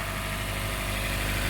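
A Honda Shuttle engine idles steadily with a low, constant rumble and hum, close and continuous throughout.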